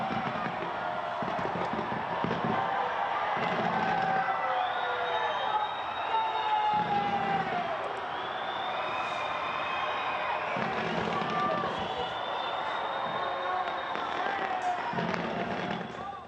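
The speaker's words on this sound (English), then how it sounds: "a dazzling display of fireworks that illuminated the cloudy night sky" Fireworks burst and crackle over a large outdoor crowd at Auckland's Sky Tower on a cloudy night, with whistling rockets and a continuous roar of cheering people.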